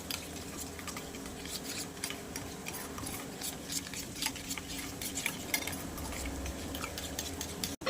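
A spoon scrapes and clinks in a pan as spices and salt are stirred into a curd and okra mixture, a faint, irregular series of soft taps over low kitchen background noise.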